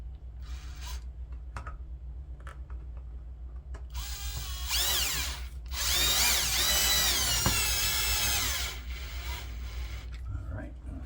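A power drill drives a screw while pull-down blinds are mounted, rising to a loud whining spin for several seconds before dropping away, with scattered clicks and handling knocks around it.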